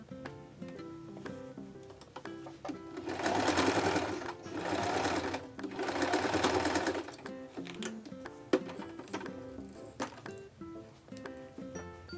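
A sewing machine stitches a strap for Santa Claus slippers in two close, loud, rapid bursts of needle chatter, with quieter handling clicks and taps before, between and after them.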